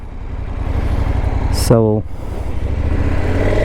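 A KTM 1290 Super Adventure S V-twin engine throbs with a deep, steady pulse up close, briefly interrupted by a short spoken word, then rises slightly in pitch near the end.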